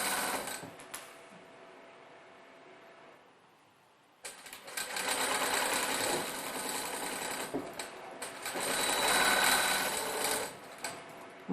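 A sewing machine runs a holding stitch along a pencil case, the motor whirring in steady bursts with a brief pause, then longer continuous runs, close and fairly loud.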